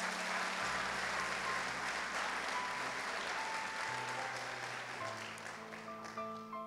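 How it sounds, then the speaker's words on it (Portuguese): A church congregation applauds during a sermon, a continuous wash of clapping layered over sustained organ or keyboard tones, moderately distant and steady, easing slightly near the end. "Dá um aplauso a Jesus por isso aí."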